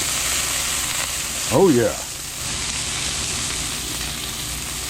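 Asparagus sizzles as it drops into hot oil in a pan, a steady frying hiss that flares briefly louder as it goes in, with a short spoken remark over it.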